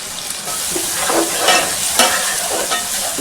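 Onion pieces and spices frying in oil in a pan for a Telangana chicken curry, a steady close sizzle with bursts of stirring scrapes, no voices.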